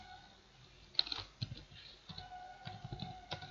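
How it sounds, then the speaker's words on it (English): Keys on a computer keyboard are tapped in a quiet, uneven run of soft clicks, with a few sharper keystrokes standing out close by. "type in the error title, error message title"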